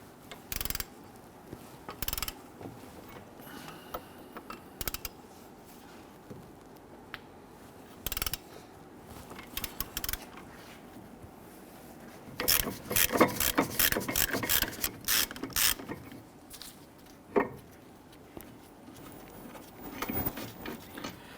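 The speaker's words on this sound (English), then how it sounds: "There are two bolts, 21mm, one up top, one on the bottom." A ratchet loosens the 21mm caliper bracket bolts on a Jeep Grand Cherokee front brake, with scattered clicks, then a fast run of close, sharp pawl ticks in the middle and a few more clicks toward the end.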